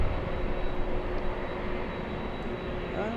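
Airliner engines roar steadily at LAX during plane spotting, a continuous broadband rumble holding throughout, with a faint rising tone near the end.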